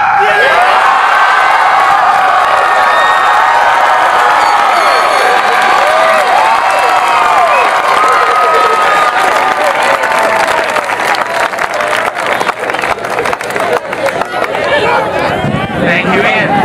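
A large crowd at a 2014 high school graduation ceremony clapping and cheering loudly, with whoops and excited voices rising over sustained applause that continues for the whole stretch.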